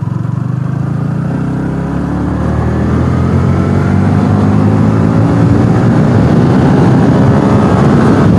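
A vehicle engine drones loudly and steadily as the vehicle makes a U-turn on a well-kept road near the Tamil Nadu–Karnataka–Andhra Pradesh border, the low rumble rising slightly as it pulls through the turn.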